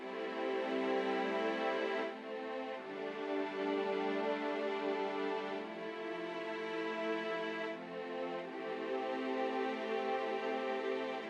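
Sustained string chords in a 2000s style ring out in layers over a soft beat, with the harmony shifting every couple of seconds and no one speaking.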